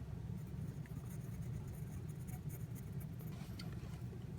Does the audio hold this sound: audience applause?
no